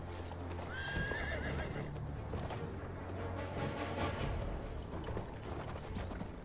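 Horse hooves clip-clop steadily in a video game while a bright whinny rings out early, with mechanical clicking and ratcheting under the steady gallop throughout.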